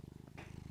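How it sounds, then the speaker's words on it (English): A house cat purrs close to the microphone, a soft rapid rhythmic rumble pulsing steadily with a brief breathy rustle in the middle. "here, listen. Here are his purrs."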